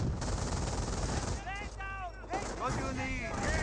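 Battle gunfire from the Company of Heroes video game, a steady crackle of machine-gun and rifle fire under a commentator's voice throughout.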